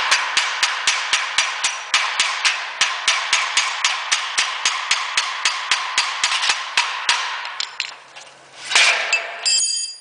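A drive shaft on a Covana C2 cover is tapped repeatedly with a metal tool, producing rapid, evenly spaced sharp metallic knocks for several seconds, then a few irregular clanks and a brief scrape.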